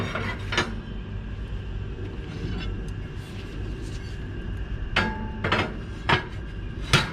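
Metal deflector plates are set into a Monolith kamado grill, with sharp metallic clanks and clunks near the start and in a cluster toward the end over steady background noise.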